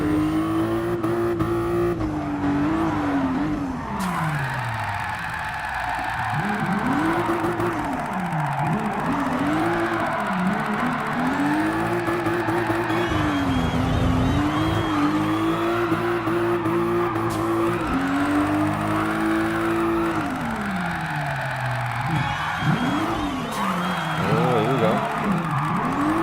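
A tuned Toyota Supra drifting in Gran Turismo Sport, its engine revving up and down in long wavering sweeps with tire squeal throughout, loud and continuous.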